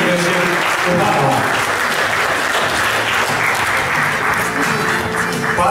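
Loud, continuous applause from the audience at an award ceremony for young talents in culture and the arts, filling the hall without a break.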